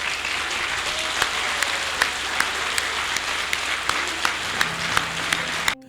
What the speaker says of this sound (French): nous nous mettions debout pour saluer de façon appuyée, par des applaudissements nourris